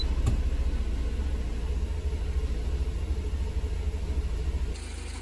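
A Mercedes-Benz 190E W201 engine idling just after starting, a steady low throbbing rumble close to the microphone, easing slightly near the end, with no talking.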